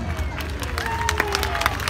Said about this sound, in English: everyone's going to give her a huge round of applause because that was amazing